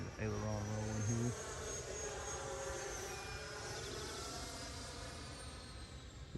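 Model sport jet, an E-flite Viper or Freewing Avanti, sweeping past in an aileron roll, a continuous whining engine tone shifting in pitch, with a brief voice at the start.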